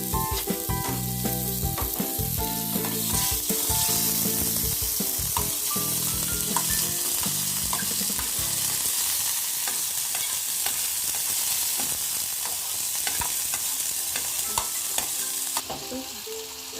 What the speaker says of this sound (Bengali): মাংস যে ছোট ছোট করে রেখেছিলাম সেটাকে দিয়ে দেব তেলের মধ্যে,